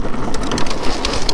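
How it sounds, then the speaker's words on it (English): Rain begins pattering, a close, crackly spray of drops hitting surfaces with scattered sharper taps. "Oh, it's raining, it's starting to rain."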